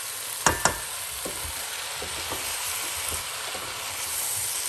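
Aubergine curry stirred in a pan: a constant soft frying hiss under a couple of sharp utensil clinks early on, then quieter scattered taps of stirring, no voices.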